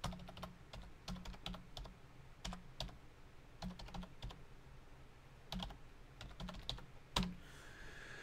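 Irregular bursts of keystrokes on a computer keyboard, loud and close, with short pauses between runs and one sharper key hit near the end; no voices.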